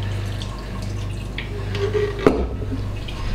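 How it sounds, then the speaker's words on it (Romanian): Water pours into homemade bread dough in a wooden trough, a steady close trickle with one sharper splash near the end and no voices. "Hai să mai punem un pic de apă"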